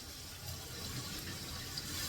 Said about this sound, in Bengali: এবার একটু জল দিয়ে দিই